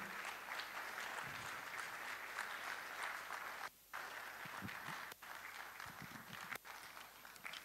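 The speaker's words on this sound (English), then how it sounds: "Keep clapping." Sustained audience clapping at a medical college's annual meeting carries on steadily at moderate distance, with a few brief dropouts and some nearby thumps like footsteps.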